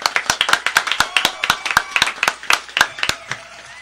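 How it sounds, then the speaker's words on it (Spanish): Close, crisp clapping from a small group in a radio or live-stream studio, quick uneven bursts of hands with sharp individual claps, loud and nearby with no talk over it. "vamos a despedir un fuerte aplauso a la Fresa RD"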